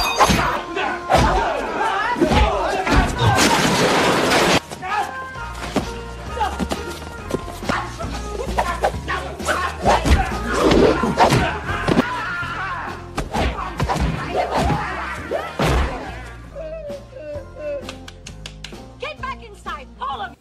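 Fight sound effects from a kung fu film: a loud, busy stretch of punches, thuds, slams and crashes, with dense hits early and scattered impacts later, mixed with shouting voices and soundtrack.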